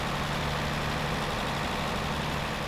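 A tractor engine idles steadily in a farming video game, a low, even rumble that holds close and constant with no talking over it.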